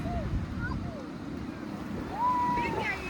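Sea waves rolling and washing ashore at Kashid beach, a steady broad surf roar with wind buffeting the microphone, and faint voices and distant calls scattered over the wash.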